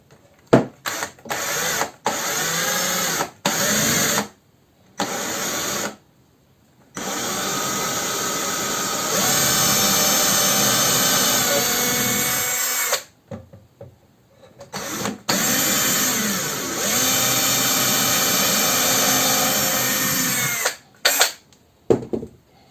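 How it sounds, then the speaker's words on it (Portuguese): A power drill bores holes into a wooden block at a woodworking bench, with repeated loud whining bursts separated by short pauses and a few clicks between them. "Limpa a broca para tirar o excesso de cavaco. E a gente já tem o primeiro furo."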